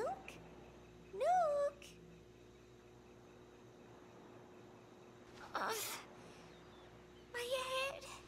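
A cat meows in the Metal Gear Solid V video game, with a couple of short rising calls alongside a voice calling a name, plus a brief noisy burst and faint game background.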